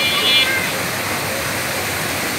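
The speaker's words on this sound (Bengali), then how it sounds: "নাটোরের হিজবেরি পার্কের কৃত্রিম ঝর্ণা" An artificial waterfall in Hizberi Park, Natore, rushes steadily and close by in a dense, unbroken wash of flowing water, with a faint high tone briefly at the start.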